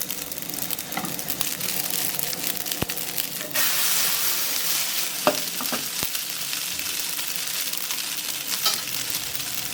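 Spaghetti fritters fry on low heat in oil, giving a steady close crackling sizzle throughout with a few sharp clicks of a utensil against the pan.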